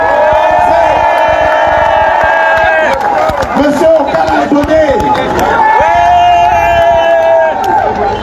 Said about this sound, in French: Nous allons applaudir pour les responsables du mouvement pour la Renaissance du Cameroun qui sont là.